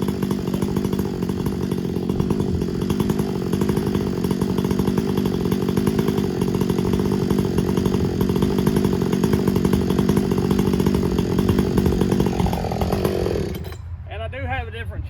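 A muffler-modded Husqvarna 562 Mark II chainsaw running steadily at high revs, loud and close and raspy throughout, dropping off near the end, with a person talking over it.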